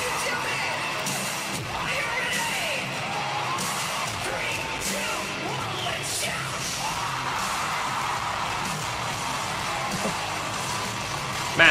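A concert crowd at a live show in Manila yells, whoops and cheers, a dense, continuous roar of many voices that holds steady throughout.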